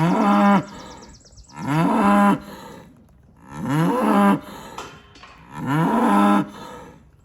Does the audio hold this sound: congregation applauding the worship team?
no